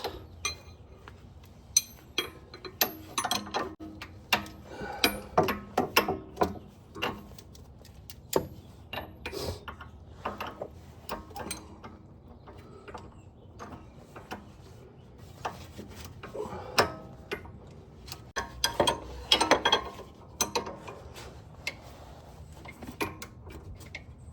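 Ratchet wrench breaking loose a nut on the rear sway bar of an Audi RS5 B9.5, a run of close metallic clicks and clinks with handling knocks and rubbing over about twenty seconds, no talking.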